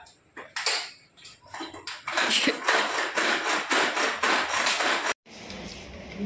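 Cabbage being finely chopped in a kitchen chopper for momo filling: a rapid, dense run of close whirring and clattering chops, starting in sputters, then a steady loud stretch that cuts off abruptly.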